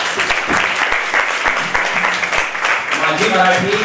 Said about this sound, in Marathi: या सर्व कलाकारांसाठी एकदा जोरात टाळ्या वाजूया.